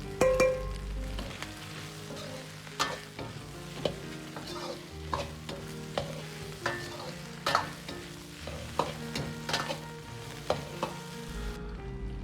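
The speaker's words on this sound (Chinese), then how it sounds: "再倒入香料煸炒" Spices and braised pork hock stir-fried in a wok with ginger and scallion over medium-low heat, a steady oily sizzle broken by repeated scraping, clanking strokes of a spatula against the metal pan, close and fairly loud.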